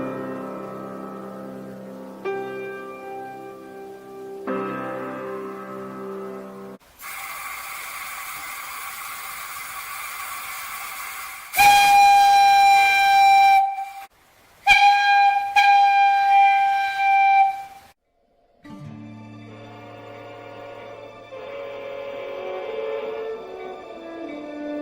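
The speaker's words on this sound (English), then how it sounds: "Hey Johnny, there's a train coming with some cars that need to be switched out." A model train layout runs with loud whistle blasts: sustained tonal toots and horn-like tones swell and cut off in several bursts over a steady mechanical hum.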